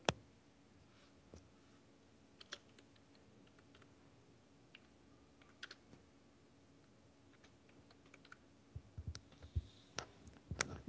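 Sparse computer mouse clicks while working in business software, a few sharp, close taps scattered over a quiet background, growing slightly more frequent toward the end.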